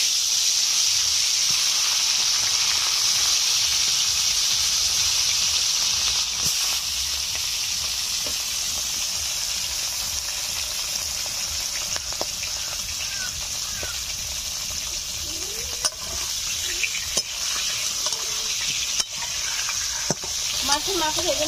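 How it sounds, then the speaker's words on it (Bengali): Fish heads coated in turmeric and salt frying in hot oil, a loud steady sizzle with occasional stirring clicks and pops throughout. "মাছের মাথায় ভালো করে হলুদ লবণ আমি মেখে নিলাম,"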